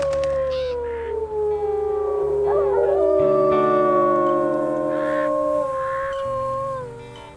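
Wolves in the WolfQuest video game let out a long, loud drawn-out howl, several voices rising and holding sustained gliding tones together over a steady game soundscape, fading near the end.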